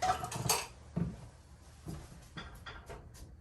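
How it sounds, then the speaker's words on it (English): Spoon grabbed from among kitchen pots and utensils, a quick cluster of metallic clanks and rattles followed by a few softer, scattered knocks and clicks, fairly quiet and close. "Let me grab a spoon here."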